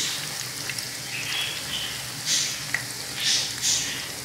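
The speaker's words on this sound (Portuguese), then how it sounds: "aqui vai fritar" Vegetable fritters of potato, carrot and zucchini frying in hot oil, giving a steady close crackling hiss with small surges of sizzle and a few sharp pops.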